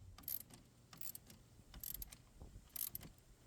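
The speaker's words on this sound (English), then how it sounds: "We are going to tighten the 10mm negative using a 10mm socket." Socket ratchet tightening a 10mm nut on the negative battery terminal of a Chevy Trailblazer, giving short bursts of quick metallic clicks repeated four times, close up and fairly quiet, with no talking.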